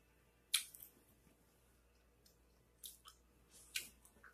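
Someone bites into a salty hotdog, with a few close, crisp bites and moist chewing sounds spread over several seconds, quiet between the sharper bites.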